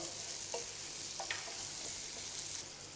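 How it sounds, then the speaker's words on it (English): Steady, dense sizzling of onions frying in hot oil for minestrone soup, continuous and close, with a few soft stirring clicks scattered throughout. "Onions in first. Like to hear that sizzle."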